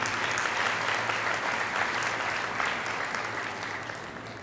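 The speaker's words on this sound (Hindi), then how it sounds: "इनके लिए भी एक बार तालियां।" A crowd at a Nirankari children's gathering in Nagaur applauds the youth team playing instruments, with dense, steady clapping that holds strong throughout and eases off slightly at the end.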